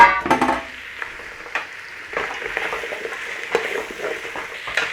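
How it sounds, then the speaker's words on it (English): Diced potato and carrot sizzle in a hot soup pot as they are stirred, soft steady frying hiss with occasional scraping and clinks of the spoon, close up and moderately quiet, with no talk over it. "So just give that a little stir in there."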